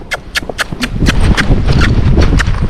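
Hoofbeats of a Tennessee Walking Horse mare on flat ground as she is asked to canter, a quick run of loud, close clip-clops with an uneven rhythm over low rumbling movement noise.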